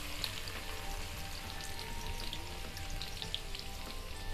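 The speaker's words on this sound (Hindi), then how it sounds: "तेल जब गरम हो जाएगा हम इसमें 2 टेबलस्पून बारीक कटा हुआ लहसुन डाल देंगे।" Finely chopped garlic fries in hot refined oil in a kadhai with a faint, continuous crackling sizzle that holds steady throughout.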